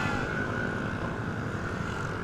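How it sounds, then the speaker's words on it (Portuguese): Many motorcycles riding together on a road in a large group, heard as a steady, dense engine drone that holds at constant loudness throughout with no talk. "Cara, tem muita moto"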